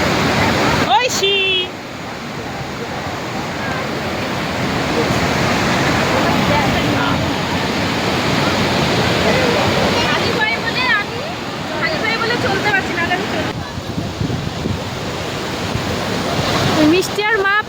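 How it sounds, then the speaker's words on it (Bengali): Dassam Falls near Ranchi roars as a continuous, loud broadband rush of falling water, with voices heard faintly over the steady noise. "এই দেখো ঝর্ণা"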